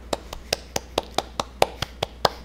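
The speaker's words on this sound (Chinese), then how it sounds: "大家掌声欢迎他" An audience at an open-source technology conference welcomes a speaker with applause: about a dozen crisp claps at a steady, even rhythm, close and clear.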